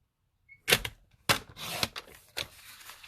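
A paper trimmer slices 12x12 designer paper into strips, giving a few short, crisp cutting strokes and clicks close up in a quiet room, with no talk.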